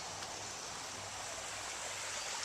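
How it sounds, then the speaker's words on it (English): Bear Creek babbles over a small falls in a steady, soft rush of flowing water that stays even from start to finish, with no voices. "You can kind of hear it as it goes over a little falls area there."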